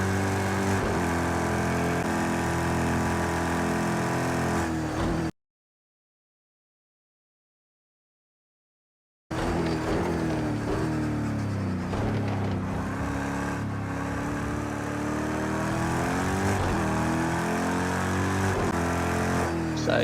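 A video game racing car engine, in Project CARS 2, drones and revs continuously, dropping to total silence for a few seconds before the engine note returns, shifting pitch with throttle.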